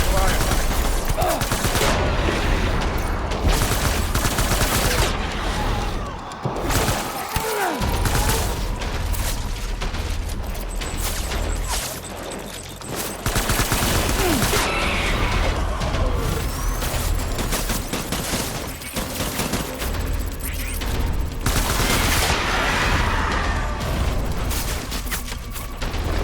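Sustained gunfire in the video game Death Stranding: dense, overlapping bursts of automatic fire and heavy booms, loud and close, continuing for the whole span with short lulls, and some faint voices mixed under the shooting.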